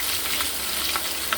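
Porgy fish frying in hot oil in a home kitchen, a steady close crackling sizzle with scattered brighter pops, heard alone without talk.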